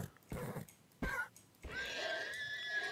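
A Minecraft horse lets out whinnying neighs as it is killed in the video game, preceded by a couple of short thuds, the final neigh drawn out and clear against a quiet background.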